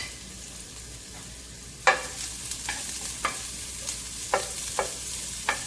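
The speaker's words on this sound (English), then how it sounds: "Your frying pan is nice and warm, medium high heat. Ooh, ginger and garlic." Ginger and garlic sizzle in a warm frying pan of extra virgin olive oil over medium-high heat, a steady frying hiss broken by several sharp scraping stirs of a utensil against the pan.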